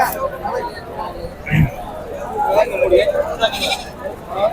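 A male goat bleats once amid a busy crowd, with people talking all around in a noisy outdoor goat market.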